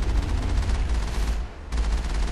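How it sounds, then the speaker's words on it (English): Rapid-fire guns in Mass Effect rattle in a loud, continuous burst of automatic fire that dips for a moment and then resumes, dense and close with no talking. "Yes, they have rapid fire guns."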